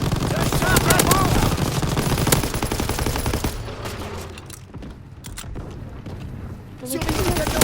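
Rapid machine gun fire from a tank turret during a Call of Duty mission, dense, loud rattling bursts layered over battle noise and a rumbling engine, easing off briefly midway before the firing picks up again, with some speech mixed in.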